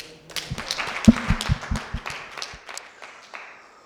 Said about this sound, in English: Y'all give Eunice a hand clap.